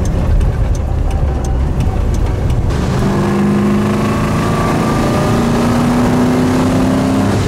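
A Rover 3.5 V8 car engine revs up loudly and steadily, its rising drone and rumble filling the whole clip with no voices.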